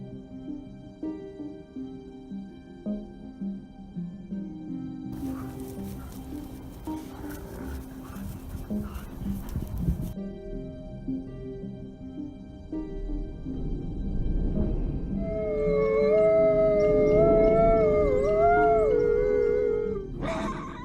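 A wolf pack near farmland, low growling and rumbling at first, then several long, wavering howls rising together and overlapping loudly toward the end, no talking.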